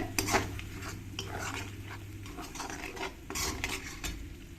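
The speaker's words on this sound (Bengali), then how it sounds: "বাটারটা দিয়ে ভালো করে পেঁয়াজের সঙ্গে মিশিয়ে নিতে হবে" Butter stirred into fried onions in a pan for chicken bhuna, with steady scraping and stirring strokes and a few metal clinks over a soft low sizzle, close by.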